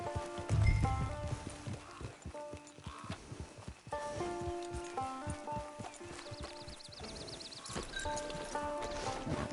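Horse hooves clopping in Red Dead Online, a steady run of hoofbeats under a game music score, with a brief voice near the start.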